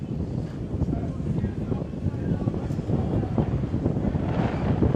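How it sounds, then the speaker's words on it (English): Wind buffets the microphone at an outdoor cricket ground during a domestic match, a steady low rumbling roar with gusty fluctuations throughout, continuous and fairly loud in the low end. "It's a very windy day."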